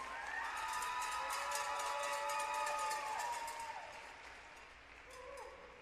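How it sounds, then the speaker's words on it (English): Crowd in a high school gym at a volleyball match applauding a senior player, steady clapping with cheering and shouts, over music or whistling tones, easing slightly toward the end. "Please give a round of applause for Mackenzie Hicks."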